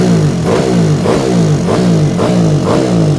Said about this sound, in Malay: Motor modified memang bunyi kasar sikit.